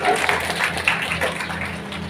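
Applause from an audience at a birthday celebration held at an old-age home in a village, broad steady clapping that runs the whole time at moderate loudness with a faint low hum underneath.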